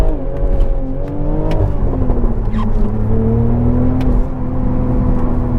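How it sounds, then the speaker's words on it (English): BMW Z4 roadster with active exhaust, engine running loud and steady with rising and falling revs, a sustained close throaty drone throughout. "in sport mode the exhaust becomes louder because it has got active exhaust"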